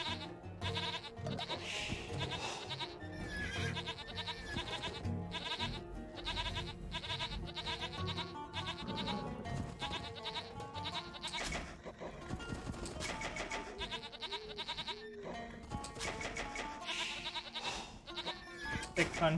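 Sheep bleat in a real-time strategy game during a build-order match, faint and repeated beneath busy game sounds and a person talking.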